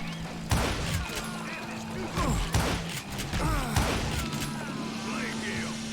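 Gunfire in the Western shooter game Call of Juarez: Gunslinger, several sharp shots and bursts with ricochet whines over game music, while in-game characters talk between the shots.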